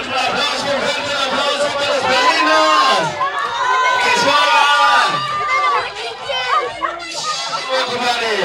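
A crowd of guests at a baptism and birthday party cheers and shouts for the godparents, with children's yells and loud overlapping chatter swelling and falling throughout.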